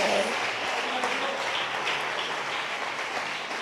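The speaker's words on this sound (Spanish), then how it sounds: "Aplauda a Jesucristo" Church congregation clapping in praise during a sermon, a steady, dense wash of applause filling the room throughout.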